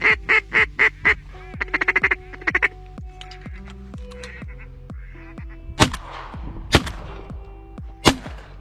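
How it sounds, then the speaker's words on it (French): Ducks quacking and honking as they approach a marsh at sunset during a duck hunt, a rapid series of loud calls at first, then sparser calls followed by three sharp, loud shotgun blasts. "4 canards approchent. Je les appelle et ils viennent magnifiquement."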